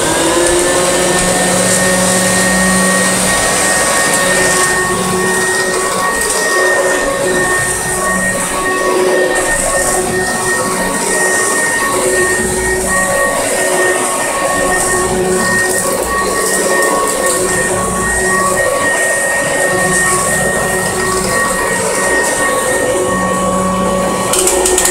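A Kirby Classic III vacuum cleaner runs steadily with a loud, continuous whine and rushing air that stays unchanged throughout, with no voices.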